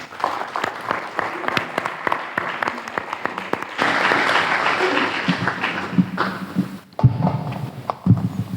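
An audience at a cultural talk in Porto breaks into applause, scattered claps at first, then a denser, sustained burst in the middle that thins out to a few isolated claps near the end.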